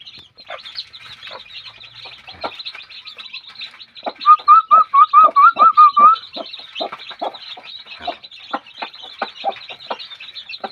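A constant chorus of high, thin cheeping from many newborn gamecock chicks, a few days old, with a louder run of rapid clucking calls in the middle.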